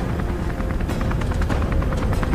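Helicopter in the video game Beyond: Two Souls, a loud, close rotor thump pulsing rapidly and continuously, with no talk over it.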